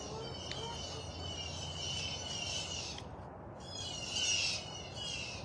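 Birds call and chirp faintly over a steady, noisy outdoor background, with high-pitched twittering scattered throughout.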